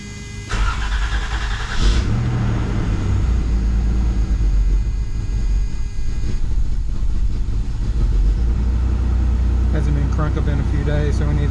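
A 1994 Toyota 4Runner with the 3.0 engine cranks, catches and settles into a loud, steady idle with a constant low rumble close by.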